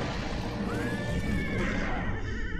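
A horse neighs in the video game Castlevania: Lords of Shadow, a single rising and falling whinny over a steady dense background of game music and ambience, with no talk.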